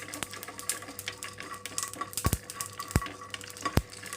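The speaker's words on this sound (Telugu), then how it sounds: "ఇందులోకి ఎండుమిరపకాయలు అలాగే జీలకర్ర వేసేసుకున్నాను ఒక రెండు నిమిషాల పాటు ఇలా దోరగా వేయించేసి" Dried red chillies and cumin seeds roasting in a pan for a tomato curry, with a steady soft sizzle and repeated scraping stirs, a few sharp knocks of a spoon against the pan.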